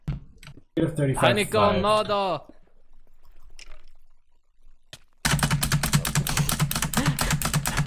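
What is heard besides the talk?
computer keyboard being smashed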